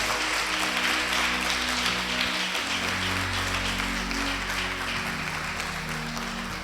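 A church congregation applauds to acclaim Jesus, a steady wash of clapping that runs throughout under sustained music tones, moderately loud and roomy.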